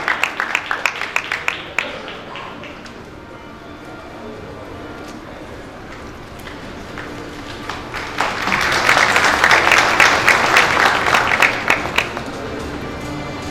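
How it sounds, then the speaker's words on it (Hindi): Audience at an awards ceremony breaking into applause, a few claps at the start, a quieter stretch, then a fuller burst of many hands clapping in the second half. "जोरदार तालियां"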